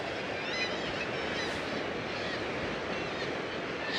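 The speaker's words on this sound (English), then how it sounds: "And the racket you can hear, I'm guessing, there's 4 gulls on a ledge" Gulls calling in a loose, overlapping chorus from a cliff ledge at St Abbs, over a constant rush of wind and surf, the cries thin and somewhat distant.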